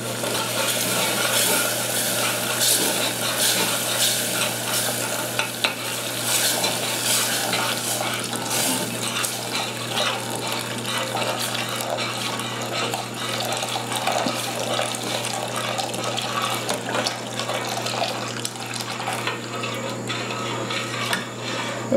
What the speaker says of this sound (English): Now add the liquid